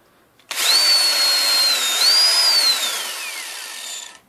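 Power drill bit boring a hole through a valve cap, a loud steady whine starting half a second in and running about three and a half seconds, pitch sagging as it finishes.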